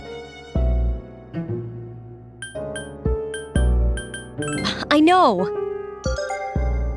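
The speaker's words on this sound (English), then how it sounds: "My cell phone? Why now?" A cell phone ringing inside Persona 3 Portable, heard as bright chiming tones in short repeated bursts, loud and close, layered over game music with a voice speaking briefly.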